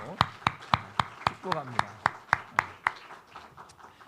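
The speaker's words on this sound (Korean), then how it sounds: "박수 환영하겠습니다." A small group in a church service claps to welcome newcomers, a steady run of about a dozen crisp, evenly spaced claps that thin out toward the end, with a voice speaking briefly over them.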